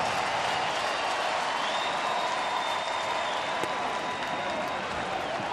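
A baseball crowd at a Twins home game roars and applauds after Miguel Sano's two-run homer, a dense, sustained wall of cheering that stays loud throughout.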